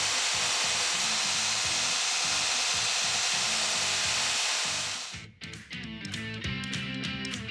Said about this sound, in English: I'll give them a brighten up on the grinder for a bit of a brush look